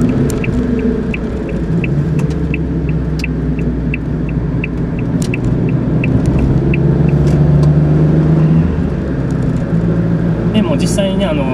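Car with a newly installed Trust intercooler on its first drive, a steady loud engine and road rumble throughout with faint periodic ticking above it.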